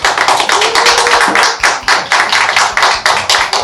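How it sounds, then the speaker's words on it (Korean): Audience applause at a film screening event, dense and energetic hand clapping filling the space, loud and close with a steady rhythm that briefly dips and resumes, no speech over it. "큰 박수로 부탁드립니다"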